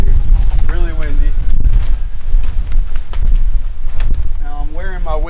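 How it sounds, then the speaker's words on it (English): Strong wind blows across a flooded street after a record storm, buffeting the microphone with a constant low roar while a person talks over it. "Really windy."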